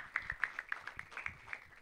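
A short burst of faint, scattered clapping from an audience at a cricket league prize ceremony, with light irregular claps heard from a distance.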